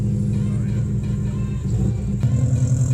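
A 2004 Subaru Impreza WRX engine runs loudly and close by, a deep rumbling idle with a brief rev surge near the end and no talking over it.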